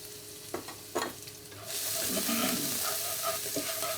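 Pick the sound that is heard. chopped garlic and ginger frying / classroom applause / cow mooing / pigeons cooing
chopped garlic and ginger frying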